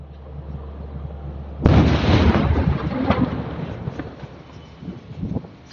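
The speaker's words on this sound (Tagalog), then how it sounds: "Sumabog na, sumabog." A sudden loud explosion from a drone attack booms out after a quiet moment, followed by a long rumbling roar that slowly fades with scattered crackles.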